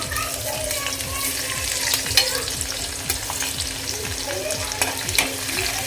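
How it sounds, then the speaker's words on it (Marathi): Crushed garlic fries in two spoons of hot oil in a wok, giving a steady, close sizzle with scraping stirs that repeat at a regular rhythm throughout, and no talking. "लसूण थोडासा लालसर होईपर्यंत आपण फ्राय करूया"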